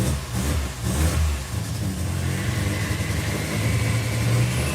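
A turbocharged Toyota V6 car engine working under load, a rough mid-to-low drone that swells and settles as it revs, close and continuous with no speech over it.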